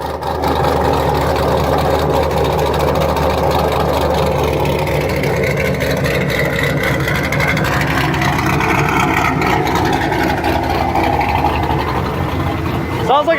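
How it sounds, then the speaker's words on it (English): A car engine runs steadily and loudly throughout, with a deep low rumble likened to a Camaro's, heard close by while people talk over it. "Sounds like a Camaro."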